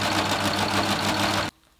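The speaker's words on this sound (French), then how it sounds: "Pour coudre l'arrondi, on va commencer par surjeter au niveau du dos, de la couture dos." A Husqvarna Viking Amber S 100 overlocker runs fast and steady while serging through three layers of fleece, giving a continuous loud mechanical whir that stops abruptly near the end, with no voices over it.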